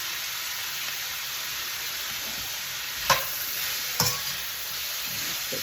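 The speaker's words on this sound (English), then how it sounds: "So, keep stirring that a little bit." Red peppers and onions stir-fry in a pan with a soft, steady sizzle, broken by two brief clacks of stirring against the pan, quiet and close with no voices.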